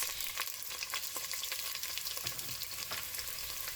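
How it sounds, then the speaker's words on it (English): Onion sautéing in hot oil in a pot for a pepper sauce, a steady close sizzle and crackle with faint stirring scrapes throughout, no talk. "I'll saute this onion for like a minute."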